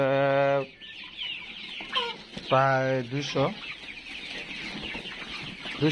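Tiger chickens cluck and squawk nearby, several bursts overlapping, while a person talks briefly in the background.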